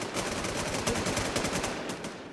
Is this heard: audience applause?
no